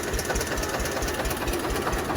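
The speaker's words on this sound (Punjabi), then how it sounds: "ਮਨਸੁਖ ਚਲਾਉਂਦਾ ਯਾਰ ਟਰੈਕਟਰ" A tractor's diesel engine chugs steadily with a rapid, even knocking rhythm, loud and close, with no other sounds.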